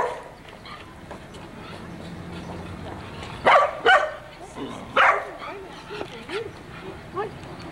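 A small dog barks in a street with several sharp yips near the middle, set against steady outdoor background noise and faint voices.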